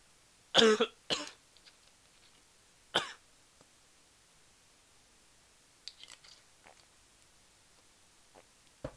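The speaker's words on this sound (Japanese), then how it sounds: "やばい、咳が出る" Two quick coughs close together, then a third a moment later, close and fairly loud, followed by quiet ticks and small mouth noises.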